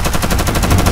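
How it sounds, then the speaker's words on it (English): Rapid gunfire rattles nonstop like a machine gun, loud and dense with repeated shots across the whole second, with no voices over it. "Where is that gunshot coming from?"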